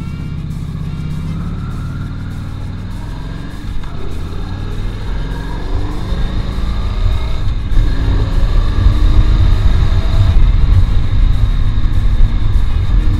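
A Honda Shadow VLX 600 motorcycle engine runs loud and close, its rumble climbing as the rider shifts through gears and accelerates, growing steadily louder throughout.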